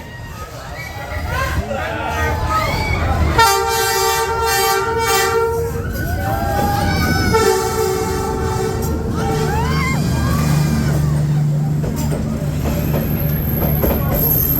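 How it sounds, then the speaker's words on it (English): A train sounds two sustained horn toots, each held a couple of seconds, over rumbling carriages and squealing wheels, with people talking in the background. "The iconic train."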